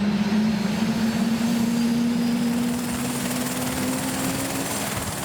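A medical air-ambulance helicopter flies with a loud, steady droning rotor hum and a sustained engine tone that fades slightly over the second half.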